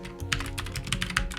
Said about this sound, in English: Sweet, keyboard works just fine.